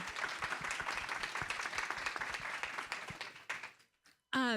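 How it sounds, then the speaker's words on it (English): Quick round of audience applause for the panelists at a public forum on funding for LA seniors facing homelessness, steady clapping that fades out near the end, followed by a brief burst of voice. "Can we do a quick applause for all the panelists?"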